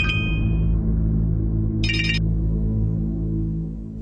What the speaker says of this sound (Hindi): नीलम ने भारती के पिता धर्मपाल को भी फोन किया।